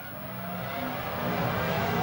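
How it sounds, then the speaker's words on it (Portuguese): Formula 1 car engine heard from the onboard camera on a car at the Spanish Grand Prix, a steady, loud, continuous drone that rises slightly in pitch and intensity over two seconds, with no talk. "Aí você tem a câmera colocada no carro do Alonso."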